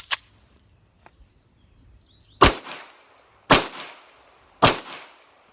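The slide of an FN Browning Hi-Power 9mm pistol is released and slams forward, giving several sharp, close metallic snaps spaced about a second apart, with a fainter click between them and quiet in between.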